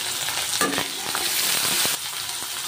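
Onions frying in a pan for a tomato dish in an Odisha home kitchen, a close, steady sizzle with scraping stir strokes, no talk.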